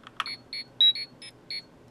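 A Gold Legacy Power Morpher toy gives a series of short electronic communicator beeps in a quick, uneven pattern, bright and close, with a click at the start.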